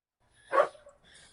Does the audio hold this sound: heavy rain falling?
no